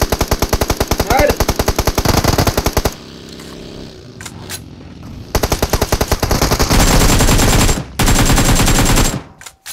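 Rapid automatic gunfire from the BGMI (Battlegrounds Mobile India) video game rattles in long loud bursts, close and punchy, with a short lull of scattered shots in the middle before heavy firing resumes.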